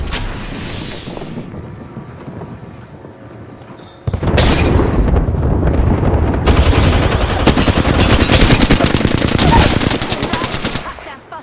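Flatline assault rifle firing in Apex Legends, loud sustained automatic bursts with booming reports after a quieter lead-in, near and dense, with no talk over it.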